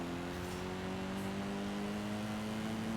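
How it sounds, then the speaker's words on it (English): A car engine in the racing game Forza Horizon 5 hums and drones with steady tonal harmonics, rising slightly in pitch as it revs, loud and continuous throughout. "Oh, the noise this engine makes,"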